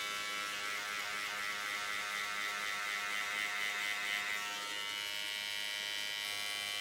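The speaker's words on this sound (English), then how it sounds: "you just do scissor over comb, but clipper over comb" Electric hair clippers buzz steadily, held close, while cutting a man's hair with the clipper-over-comb technique; the even whir runs the whole time with no talk over it, its tone shifting slightly partway through.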